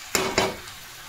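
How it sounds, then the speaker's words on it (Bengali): Chana dal with keema being stirred and sautéed in a hot pan: two quick scraping strokes over a steady sizzle, close up, then a softer simmering hiss. "আর একটু চাপা দিয়ে কষে নিই।"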